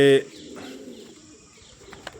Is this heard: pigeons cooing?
yes